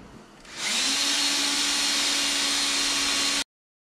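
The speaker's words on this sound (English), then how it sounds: "Just start drilling." A power drill bores a hole for a tail light install on a Can-Am Outlander 850 XMR, spinning up after a brief pause into a loud, steady high-pitched whine for about three seconds, then cutting off abruptly.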